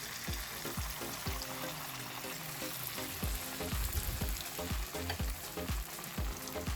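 An arepa fries in hot oil, a loud continuous sizzle with crackling pops and a few clinks of a utensil stirring or basting, with no talking.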